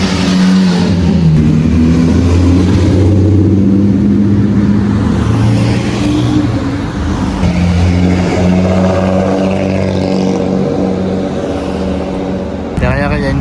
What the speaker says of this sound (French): Derrière il y a une 3 litres CSL qui arrive